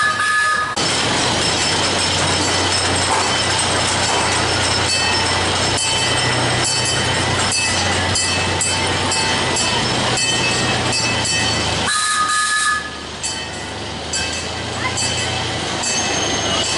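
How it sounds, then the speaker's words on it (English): An amusement park train at Indiana Beach runs along its rails with a loud, continuous rolling rumble, wheel squeals and clacks, close and sustained, briefly dipping near the end. "we're about to get on the train"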